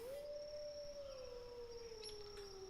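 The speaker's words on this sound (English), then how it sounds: "the other wolf pulls it away and starts howling in the distance" A single wolf howl carries from a distance, a long sustained tone that slowly sinks in pitch and holds steadily for nearly three seconds, with faint background hiss.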